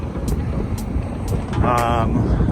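Steady wind buffeting a microphone outdoors on a mountain trail, a low rumbling roar throughout, with faint voices briefly underneath.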